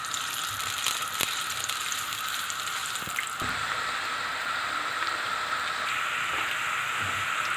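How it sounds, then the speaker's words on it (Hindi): Onions browning in hot oil in a kadhai give off a steady, close crackling sizzle with faint scattered pops, continuing alone without any talk. "ऑयल मैंने डाल लिया कढ़ाई में, अब मैं उसमें प्याज डाल रही हूँ। प्याज को हम अब ब्राउन कर लेंगे।"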